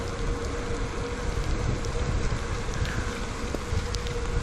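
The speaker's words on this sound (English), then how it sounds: "we're getting rained on again, like pretty bad" Rain falling during an outdoor bike ride near Lake Norman, North Carolina: a dense, steady hiss of rain and wind noise fills the clip evenly, with no pauses or voices.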